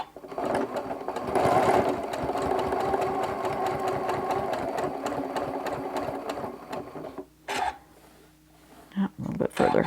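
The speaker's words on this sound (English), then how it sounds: "I'm actually going to lock my stitches" A sewing machine locks its stitches on a small quilted mug rug made of crumb fabric, running in a fast steady whir for most of the stretch, then pausing before short bursts resume near the end.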